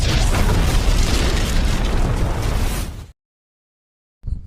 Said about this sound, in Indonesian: secara tidak sengaja dia tersandung jebakan bom yang meledakkan jembatan